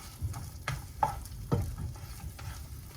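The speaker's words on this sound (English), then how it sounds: "grab your spatula, just flip it over and start chopping it all up" Steady frying sizzle of an egg in a pan, with a few sharp scraping taps as a spatula flips and chops it up, close and fairly loud.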